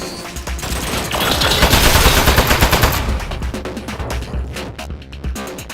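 A turret opens fire in a sudden office ambush, a dense rapid burst of gunfire that swells loud in the middle and then breaks into sharper, spaced shots near the end.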